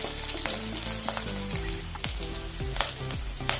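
Slit green chillies sizzle and crackle in hot oil in a pan for North Indian dal curry, with steady frying hiss and repeated scraping stirs throughout, close and fairly loud.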